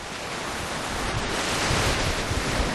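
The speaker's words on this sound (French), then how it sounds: "Voilà ces vagues sur l'étrave." Pacific Ocean waves rush and break against a sailboat's bow, a loud continuous broadband roar that swells slightly toward the end, mixed with wind buffeting the microphone.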